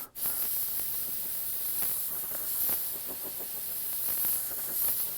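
A spray gun sprays candy red paint onto a test sheet of paper, a loud continuous airy hiss that holds steady for several seconds from a sharp start.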